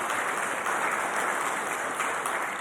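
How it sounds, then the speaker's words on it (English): Audience applause at a town hall meeting with the sheriff, brief dense clapping from a room full of people, steady and fairly loud, with no talk over it. "Y'all give her a round of applause."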